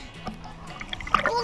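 A child's jump into a hotel swimming pool ends in a splash and sloshing water near the end, after a short, quiet lead-up with light background sound.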